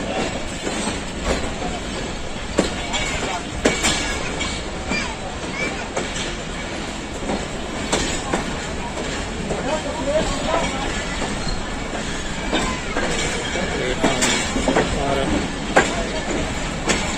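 A Pakistan Railways train rumbles along the tracks with continuous rolling noise and intermittent clanks and rattles, loud and close, with voices talking underneath.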